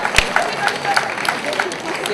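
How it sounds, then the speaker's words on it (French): An indoor audience at a children's fashion show claps steadily for a young girl modelling a jacket and skirt, with rhythmic clapping and crowd murmur under it. "Applaudissez bien fort Dorine"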